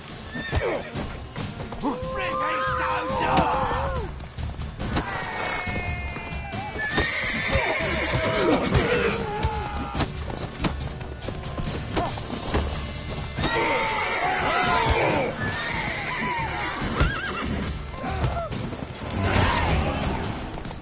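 Horses in the video game The Witcher 3 neigh and whinny repeatedly over clip-clopping hooves and combat crashes, loud and close, with voices speaking in between.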